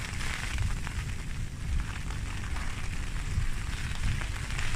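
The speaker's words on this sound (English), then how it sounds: "And rain's kicked in as well." Rain and gusty wind outdoors by the River Trent make a dense, steady hiss and rush, with low buffeting swells from the gusts, and no voices.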